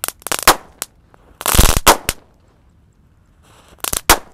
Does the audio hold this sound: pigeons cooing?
no